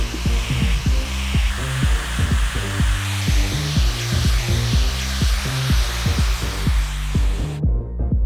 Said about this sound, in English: I'm gonna start to diffuse her hair on high heat,